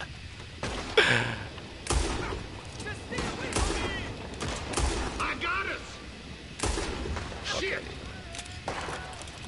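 Video game gunfire with scattered shots and short bursts, some sharp, some thudding, spread over a noisy fight while voices talk over the action.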